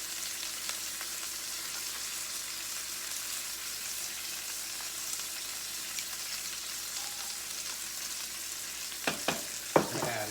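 A burger fries in a pan with a steady, close hiss of sizzling fat and occasional crackles and pops, the last few near the end slightly louder, with no voices.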